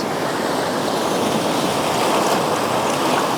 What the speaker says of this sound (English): I keep getting interrupted by these beautiful waves.